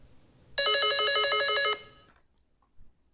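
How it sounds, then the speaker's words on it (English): A rapid, warbling RF-4C radar missile launch warning tone pulses steadily for just over a second, then cuts off into quiet. "it now gives you a missile launch tone"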